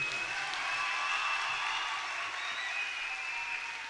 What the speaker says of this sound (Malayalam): നമുക്ക് നല്ലപോലെ കൈയടിച്ചവരെ പ്രോത്സാഹിപ്പിക്കാം